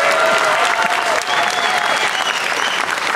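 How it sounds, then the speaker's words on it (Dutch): Audience applause for a young children's music group, steady dense clapping throughout, loud and close with a faint voice or whistle tone riding over it. "Nog een hartelijk applaus."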